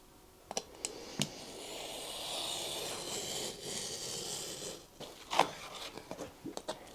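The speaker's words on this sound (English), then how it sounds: "The boards are 28 inches, so I'm gonna cut them to 14." Paper vision boards being cut in half on the floor, a few sharp snips and clicks over soft rustling, close and fairly quiet, with a final cluster of snips near the end.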